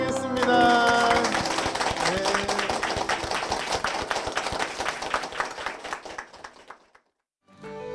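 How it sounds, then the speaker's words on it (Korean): A church congregation applauding together, dense rapid clapping that rises quickly and fades out over several seconds, with a voice heard at the start, then silence before a new sound begins. "주님께 영광의 박수를 드리겠습니다"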